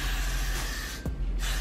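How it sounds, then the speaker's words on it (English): Gatsby glue hair spray aimed at the hairline on natural curly hair, a close, steady hiss lasting most of the moment with a brief pause, no talk. "I'm gonna take my Gatsby glue spray and spray it at my hairline"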